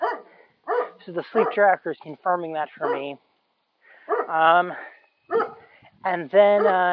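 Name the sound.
dog barking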